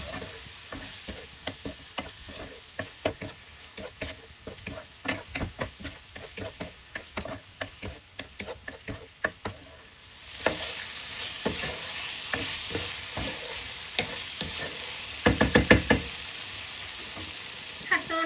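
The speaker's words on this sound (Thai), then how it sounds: "ใส่เครื่องปรุงรสแล้วก็ผัดให้เขาเข้ากันนะคะ" Fish balls stir-fried with garlic and chili in a pan, the sizzle broken by a steady run of spatula scrapes and clinks, louder and denser in the second half, with a short burst of rapid clatter near the end.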